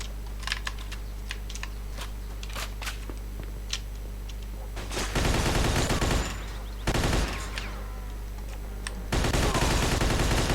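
Automatic weapon fire in the Mafia 2 Jimmy's Vendetta shooter game, long loud bursts punctuated by short pauses, following a stretch of quiet keyboard clicking.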